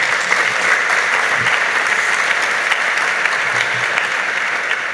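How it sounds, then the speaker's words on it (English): Sustained applause from a large audience fills the room at a scholarship program anniversary event, a steady dense wash of clapping with no break across the whole stretch. "The louder you clap, the more we give in the future."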